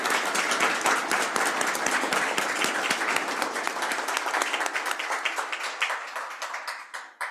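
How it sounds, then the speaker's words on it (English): Audience applause at an evening board meeting honoring two retirees, a steady burst of many hands clapping that thins out and fades toward the end. "a round of applause for both of those retirees"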